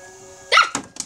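A dog gives one loud, sharp bark up close, followed by a few quicker, softer barks, after a faint steady hum.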